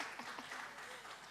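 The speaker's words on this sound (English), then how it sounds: "So just another round of applause for this wonderful," Festival audience applauding a panel, a soft, steady patter of clapping from a crowd at some distance.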